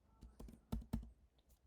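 A few quick, close keystrokes on a computer keyboard, irregular taps with short gaps, quiet and alone.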